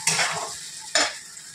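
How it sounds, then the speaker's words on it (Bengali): Shrimp mash being stirred in a pan for a Bengali-style bhorta, two short scraping strokes with a soft sizzle, close and alone. "এবারে এটাকে নাড়িয়ে টাড়িয়ে"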